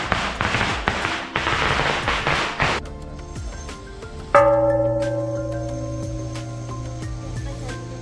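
A rapid crackling burst of firecrackers pops for a few seconds in Malaysia as part of a prayer ritual, followed by a sharp bang and a lingering ringing tone that slowly fades.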